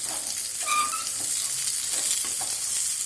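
Masala-coated mackerel fish fries on a hot tawa with a steady, close, bright sizzle that stays loud and constant throughout, with a few faint stirring or scraping touches and no speech.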